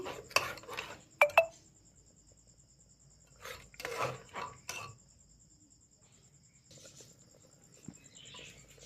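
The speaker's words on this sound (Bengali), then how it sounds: "ডিমটা দিয়ে দিচ্ছি দিয়ে এবার ভালোভাবে নাড়াতে হবে ভালোভাবে নাড়িয়ে নিচ্ছি" A spoon stirs mutton stew with an added egg in a cooking pot, giving a few scattered scrapes and clinks in short bursts over a steady high-pitched whine and faint background hiss.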